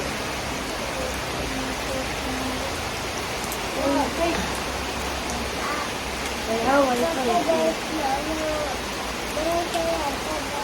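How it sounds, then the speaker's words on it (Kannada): Heavy rain pours steadily at Gokarna as a dense, even roar, while a person talks over it; thunder is not clearly distinct. "ತುಂಬ ಗುಡುಗು ಕೂಡ ಇದೆ ತುಂಬ ಮಳೆ ಇದೆ"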